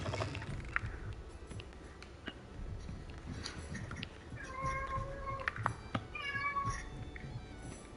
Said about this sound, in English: My cat wants in. My cat really wants in.